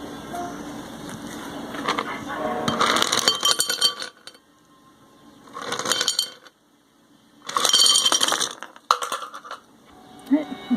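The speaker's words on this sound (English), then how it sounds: "now we're going to pour some ice in our lovely cup." Ice cubes poured into a cup for instant taro boba tea, clinking and rattling in several separate bursts with quiet gaps between, close and bright.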